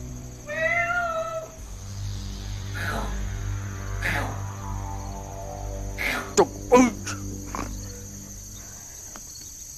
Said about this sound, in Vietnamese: Đang ngủ ngon con mèo quậy quá làm mất cái ngủ hết trơn.